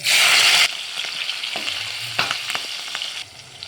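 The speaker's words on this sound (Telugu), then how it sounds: "పచ్చిపకాయలు కూడా మంచిగా ఫ్రై అయినండి" Green chillies frying in hot oil give a loud burst of sizzling at first, then a lighter continuous crackle with occasional stirring scrapes, close up.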